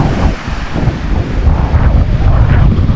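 Strong gusty wind buffets the microphone in loud, rough bursts, with the wash of surf faintly underneath.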